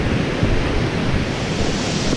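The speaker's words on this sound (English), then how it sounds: "This is the creek right here, or waterfall thing." Steady rushing water from a rocky creek or waterfall at Swallow Falls, a dense continuous roar heard close and loud with no voices.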